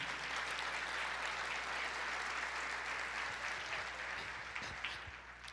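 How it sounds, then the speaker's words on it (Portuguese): Church congregation applauding during a sermon, a steady, fairly faint wash of many hands clapping with a low hum beneath, tapering slightly toward the end. "Pode aplaudir ao Senhor."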